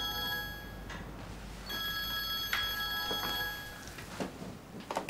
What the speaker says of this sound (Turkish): Telefonuna bakmayacak mısın? Bütün gün çalıp durdu zaten hala.